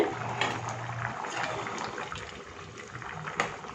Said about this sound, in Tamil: இப்போ திறந்து பார்க்கலாம் நல்லா கொதிச்சிருச்சு